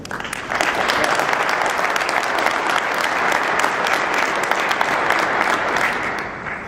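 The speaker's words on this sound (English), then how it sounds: "I think they deserve an applause." Audience at a Bound Brook, New Jersey borough council reorganization meeting breaks into applause, a quick swell of many hands clapping that stays full and steady for several seconds, then begins to fade near the end.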